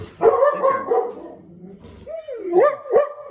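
A dog close by barks a few times, with whiny, yelping tones between the barks.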